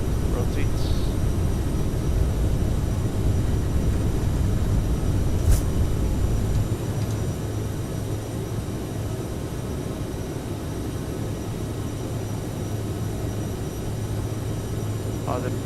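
CRJ 550 jet engines roar steadily through a takeoff roll in a flight simulator, a continuous broadband rumble that eases slightly partway through, with a few faint clicks on top.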